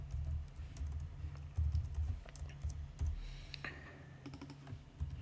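Steady, close typing on a computer keyboard while coding. Brisk, uneven bursts of key clicks run alone throughout, with no talking.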